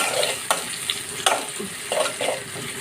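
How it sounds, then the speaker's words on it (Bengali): Onions sizzle steadily in a hot pan for a meat dish, with a constant crackling hiss broken by a few sharp scrapes and clinks of a utensil stirring them, with no talk. "এখানে আমার এই পেঁয়াজটা লাল হয়ে গেছে।"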